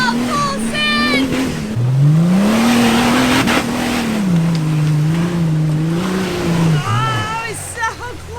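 A Jeep Wrangler's engine revs hard on a rough off-road trail, its pitch climbing, dropping and surging as the driver pushes through an obstacle, loud and close, with people shouting excitedly over it.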